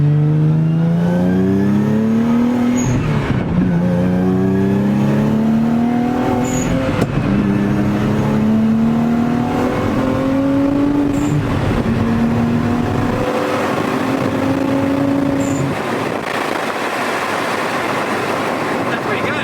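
A motor-swapped Nissan 370Z, rated about 467 horsepower on the dyno, pulls hard under throttle. The loud, close engine note climbs in pitch again and again as it runs up through the gears.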